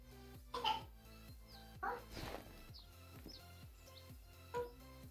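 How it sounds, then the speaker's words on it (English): Several short coughs and throat clears from a person in a hunting game set outdoors, spaced apart with light bird chirps in the background and low ambient hum. "Coughing."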